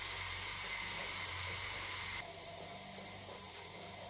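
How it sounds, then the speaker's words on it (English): Steam hissing steadily from the vent of a T-Fal pressure cooker during canning, a loud continuous broadband rush that drops abruptly to a quieter hiss halfway through, with no talk. "this pressure cooker releases a little bit of steam out of this vent the entire time while you're cooking"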